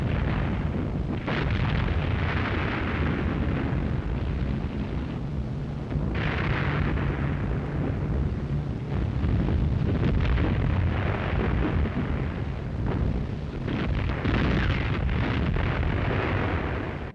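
Heavy 12,000-pound bombs striking the battleship Tirpitz: a sustained, loud roar of blasts and rumbling detonations that fills the whole stretch, with repeated surges of explosive noise and no speech.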